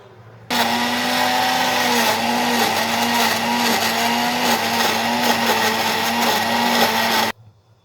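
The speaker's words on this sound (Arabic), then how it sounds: "يلا بينا على الخلاط ونديهم ضربة حلوة في الخلاط" Electric blender whirring loudly as it mixes banana, avocado, yogurt, honey and olive oil into a hair cream, starting abruptly, running steadily for about seven seconds with a slight wavering pitch, then cutting off.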